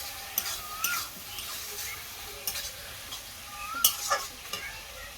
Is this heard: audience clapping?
no